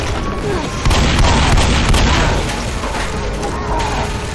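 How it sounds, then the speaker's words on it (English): In the video game Left 4 Dead, a mounted turret fires in a dense, loud, continuous barrage of booming shots with mechanical clatter, heard alone with no talk. "Oh, I can shoot it with the turret."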